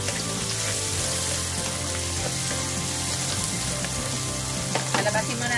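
Crushed, sliced garlic frying in a pan, giving a steady close sizzle with faint stirring scrapes and no talk.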